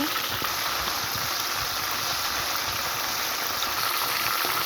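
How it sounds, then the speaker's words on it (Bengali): Marinated chicken pieces fry in hot oil in a cooking pot, giving a steady, dense sizzle and bubbling hiss that holds at an even level throughout without pause. "তেল এখন তেলটা গরম হয়ে আসলে আমি দিয়ে দিব ম্যারিনেশন করা চিকেনগুলা হাঁড়িতে আমি চিকেনগুলোকে ভেজে নেব"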